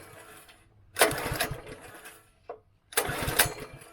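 A small petrol engine on a pressure washer makes two short bursts of cranking and firing, each about a second long and separated by a brief gap, with no steady run between them.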